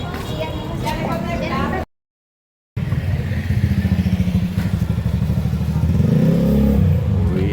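A motorcycle engine idles and revs with a rapid, pulsing putter, brief silence cutting in early, and voices talking over it.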